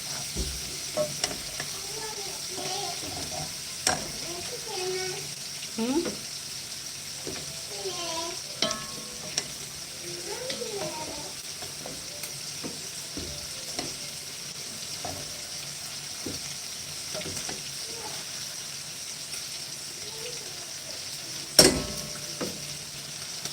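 Sardines (omena) frying in a pan and being stirred, a steady close sizzle broken by scraping stir strokes and occasional louder clatters, with no talking.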